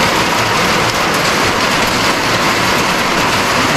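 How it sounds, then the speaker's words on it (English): A heavy downpour pours steadily outdoors over a garden, a loud, unbroken hiss of dense rainfall close by with no letup and no voices. "That's some heavy rain, man."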